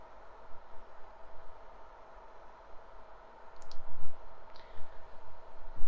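Keys on the keyboard of a GE Logiq E ultrasound scanner are pressed, giving a few faint, sharp clicks spaced about a second apart over a steady background hiss of the room.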